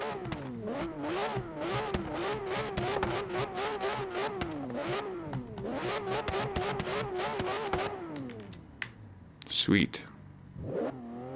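A Porsche 911 GT3 RS 4.0 litre engine in Forza Horizon 3 revs hard through a series of rising and falling shifts, loud and close, then drops away near the end with a brief sharp noise; someone speaks briefly over it.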